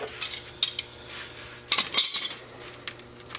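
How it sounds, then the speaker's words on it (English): A 13mm wrench handled among metal tools during car injector work, giving several sharp, close metallic clinks and rattles in short clusters, with no talking. "Oh, 13mm wrench."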